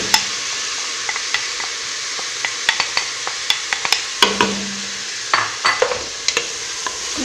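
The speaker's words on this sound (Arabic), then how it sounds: "بعد ما تقلى الدجاج تاعي نزيد له حبيبه تاع البصل تكون مسكرفجه" Onion fries with chicken in a pan as a utensil stirs it, giving a soft background sizzle. Sharp scrapes and taps of the spoon against the pan cut through it at an irregular, steady rhythm.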